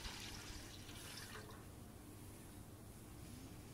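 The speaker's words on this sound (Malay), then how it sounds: "Masukkan air" Water pours steadily into a cooking pot being filled to boil spaghetti for a Malaysian spaghetti bolognese, a soft continuous splashing trickle that eases off after the first second and a half.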